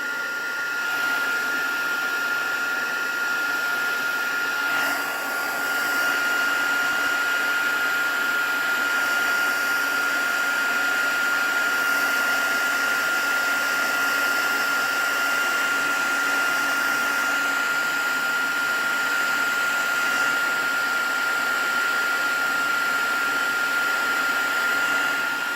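A heat tool blows steadily and loudly for the whole stretch while it melts embossing powder on stamped card, a constant whirring roar with a high whine and slight shifts in pitch, and no voices.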